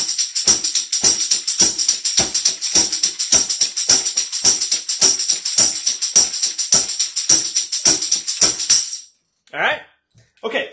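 A fast second line drum groove: dense, steady snare and cymbal strokes in a tight, driving rhythm, loud and close, stopping abruptly near the end with a few soft final hits.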